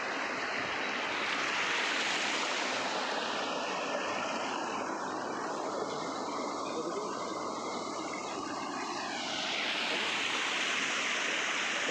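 Godhasa waterfall roars with a steady, full wash of falling water, constant and close throughout.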